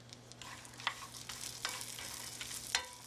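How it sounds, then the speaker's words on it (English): Pecans sauté in two tablespoons of butter with a little salt in a small skillet: a soft, continuous sizzle broken by a few sharp clinks of a utensil against the pan, with a faint steady hum underneath. "What I'm going to do is saute them in a small skillet in 2 tablespoons of butter."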